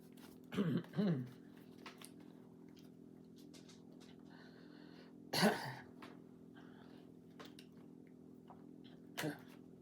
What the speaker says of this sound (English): Sorry about my cough and allergies.